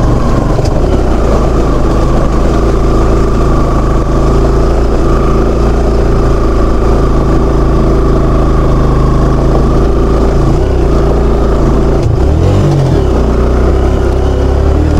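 A motorbike engine labours continuously up a steep, dangerous off-road climb, a steady loud mid-pitched drone with rising revs and a few bumps near the end, no talking.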